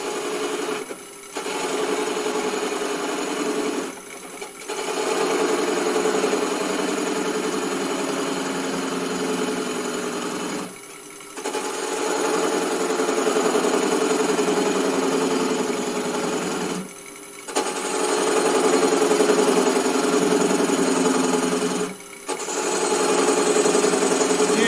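A wood lathe spins a bowl while a 1/4 inch long-grind bowl gouge cuts at about 600 rpm, giving a steady, close rasping hum broken by several brief pauses where the tool lifts off.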